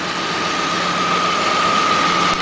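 A Geo Metro's engine runs on hydrogen and water vapor with a steady, even hum and a constant whine on top, loud and close, with no talking.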